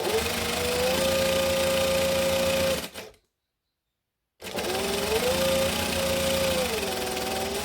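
A sewing machine runs steadily, stitching a seam on Christmas shorts, with a loud continuous motor whir that cuts off for about a second and then resumes for a second run of back-stitching.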